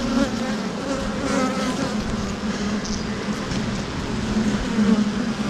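Honey bees drone in a dense, steady, close buzz during an early spring hive inspection, with no pauses.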